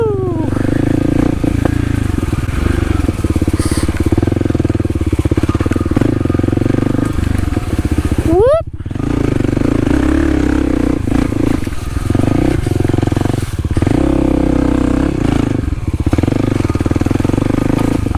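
A Kawasaki KLX300 dirt bike ridden on local trails, its engine droning loud and close throughout with steady throttle, a quick rev and gear change midway, then continued hard running.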